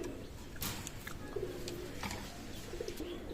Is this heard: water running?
no